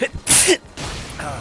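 A single sharp sneeze bursts out during casual conversation among people chatting while playing a game, followed by continued talk.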